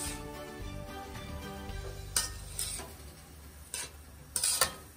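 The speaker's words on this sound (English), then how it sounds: "After we add the potato, then we need to stir it." A utensil scrapes and stirs potatoes and bitter melon in a pan for a Bengali bhaji, soft frying hiss underneath with several sharp clinks of metal against the pan, close and without talk.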